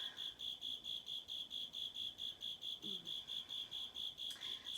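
Cricket chirping indoors during a hatha yoga session, a steady, evenly spaced series of high pulses repeating about four times a second, fairly faint but continuous and alone.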